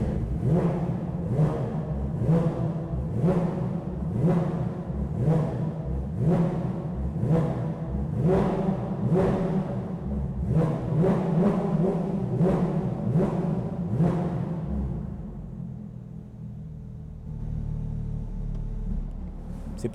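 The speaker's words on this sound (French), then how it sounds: "on va vous faire écouter le son de l'échappement" A Porsche 992 GT3 with a Brook exhaust and its valve open revs hard in a steady series of about a dozen loud, close blips, then settles to a low idle rumble with no voices.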